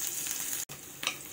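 Sliced onions sautéing in hot cooking oil for a corned beef dish, a steady close sizzle with a brief cut and a sharper crackle near the end.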